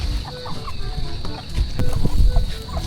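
Chickens on a farm beside a fish pond cluck softly and intermittently over a rumbling, noisy outdoor background with handling sounds nearby.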